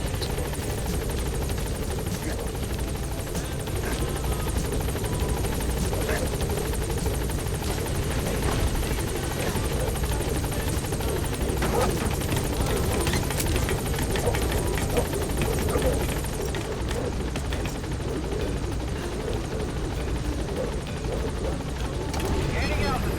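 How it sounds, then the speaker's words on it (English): Support helicopter in Metal Gear Solid V: The Phantom Pain, a steady loud rotor and engine drone holding throughout, with radio voices talking over it. "Support helicopter has arrived."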